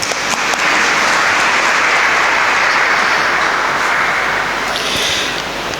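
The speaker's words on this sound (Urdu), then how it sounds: "تو تالیاں بجاتے ہیں۔" Sustained, dense audience applause fills a church hall during a Catholic final profession ceremony for a Daughter of St. Paul sister, loud and steady throughout with no speech over it.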